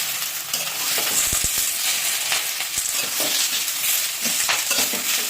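Cauliflower and potato curry being stirred in a pan, with a steady sizzle of frying and scattered scraping clicks and taps of a spoon against the pan, close and continuous.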